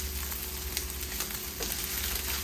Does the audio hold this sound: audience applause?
no